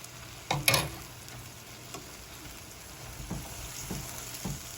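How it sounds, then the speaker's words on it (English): Rice being stirred in a pan as warm broth is added, soft intermittent spoon scrapes and gentle sizzling bubbles up close, with one louder clatter near the start. "And you just stir it in and you let the rice soak it up."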